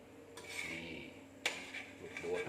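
Stir-fried squid with holy basil is scooped from a pan: faint metal scrapes and clinks of a spatula, with a couple of sharper knocks, quiet and close.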